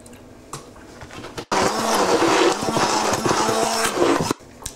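Wet loaf batter with added milk being beaten, likely with an electric mixer, as a steady close whirring and scraping burst of about three seconds, preceded and followed by quieter kitchen sounds.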